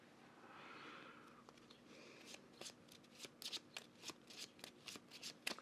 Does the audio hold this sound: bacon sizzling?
no